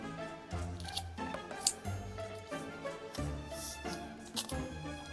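Paper being folded in half for an origami mini car, with soft crinkling and rustling creases over a background of music, quiet and close.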